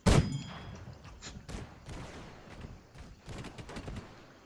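Troops open fire in Airships: Conquer the Skies with a sharp loud crack at the start, then scattered lighter shots and metallic clanks that keep popping irregularly.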